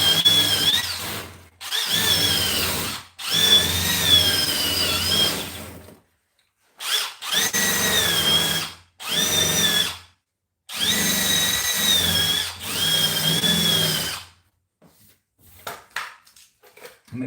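A power tool grinds weld burns off a repaired Subaru door panel in several loud, sustained bursts of whining, squealing abrasion, separated by short pauses, with no talk.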